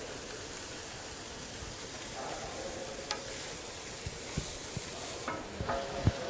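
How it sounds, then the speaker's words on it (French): Cabbage with oil and salt crackles on a dry plancha, a dense, rain-like hiss spattered with small pops that grow more frequent toward the end. "On entend le bruit, hein, ça crépite, c'est intéressant."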